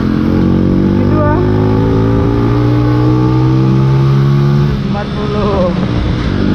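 A Honda Little Cub motorcycle engine pulls up through the gears, a close, loud tone climbing steadily in pitch and then dropping briefly at a shift, with someone talking over it.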